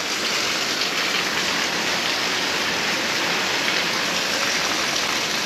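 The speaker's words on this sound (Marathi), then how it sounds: "खूप जोराचा पाऊस आलेला आहे." Heavy rain pours down in a steady, dense roar that stays loud and unbroken throughout, with no voices over it.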